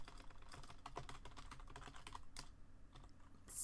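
Fingers typing on a computer keyboard while entering code, a quiet run of quick, uneven key clicks heard up close with no voices.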